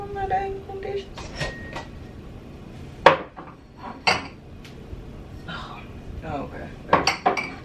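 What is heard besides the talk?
putting away dishes and cutlery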